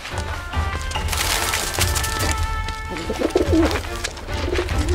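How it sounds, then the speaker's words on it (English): Bird calls from Final Fantasy 7 Remake, steady cooing and squawking over a busy game soundscape with tonal music lines, continuing loudly through the whole stretch. "Stupid bird."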